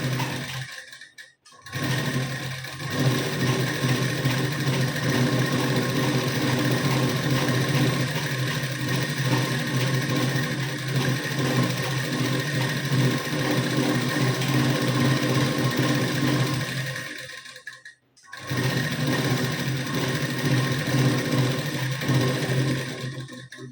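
A sewing machine runs steadily, stitching a folded half-inch piping strip for a blouse, loud and continuous with two brief pauses where it stops and restarts.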